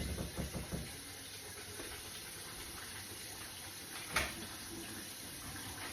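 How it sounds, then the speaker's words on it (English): Water runs steadily from a tap while rice is rinsed, a continuous hiss with a few splashy surges near the start and a brief louder splash near the end. "continuing to rinse the rice until it comes back clear"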